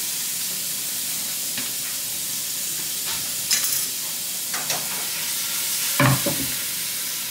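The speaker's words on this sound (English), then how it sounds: "I drained my ground beef, so I'm gonna put the ground beef in here" Drained ground beef sizzles and hisses in a pan, with a steady frying crackle punctuated by several scraping stirs, a louder clatter near the end, and no voices.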